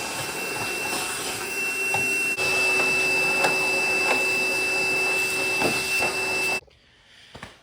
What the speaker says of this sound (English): I'm also gonna go ahead and vacuum this out